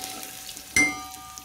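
Spices and asafoetida sizzling in hot oil for a tempering, a sudden bright frying crackle bursting in partway through and continuing steadily, close and moderately loud.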